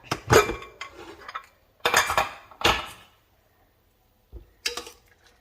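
Pressure cooker being opened in a kitchen while cooking ash gourd and cowpea erissery: sharp metallic clinks and clatters of the lid and pot in a few distinct bursts separated by quiet pauses, fairly close and alone.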